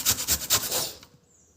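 A carrot is rubbed by hand against a grater in a few quick rasping strokes, close and crisp, with a brief scrape at the end before quiet.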